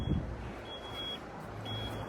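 Battery-powered cleaning machine on a roof job, alongside a lance and surface cleaner, gives two steady high-pitched beeps, each lasting about half a second, over a low background rumble.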